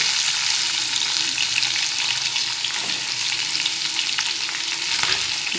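Chopped ridge gourd sautéing in hot oil with chilies in a pan, a loud continuous sizzle and crackle with a few scraping stirs, close and steady with no talking.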